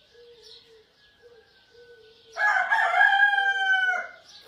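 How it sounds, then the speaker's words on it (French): A rooster crows at sunrise, one long, loud, close call lasting over a second that rises out of a quiet backdrop of faint, thin bird calls and soft tones. "Se réveiller comme ça en entendant un coq chanter."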